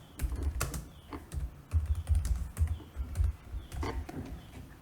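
Quiet keystrokes on a computer keyboard come in short irregular bursts and pauses, close and low in level, with no talking over them.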